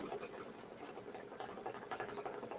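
A home sewing machine stitches a strawberry mini-quilt block in a steady, close, continuous run with a fast mechanical patter and no talking.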